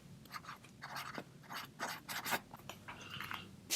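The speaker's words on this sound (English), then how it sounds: "Let me just write my name." A gold glitter marker scratches across paper while a name is written, giving soft, close rubbing strokes in short bursts with brief pauses, alone and quiet.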